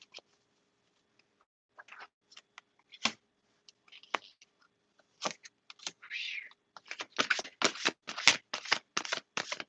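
Tarot cards are shuffled by hand close up, with sparse papery slides and taps at first that build into a rapid, dense run of crisp card flicks toward the end.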